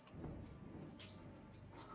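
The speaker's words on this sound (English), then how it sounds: "Oh, that's my cat's mouse toy." A cat's squeaky mouse toy gives bird-like chirps, short bright squeaks in a few separate bursts, fairly close and alone, with a quiet pause between them.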